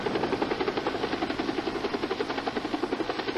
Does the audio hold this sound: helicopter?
yes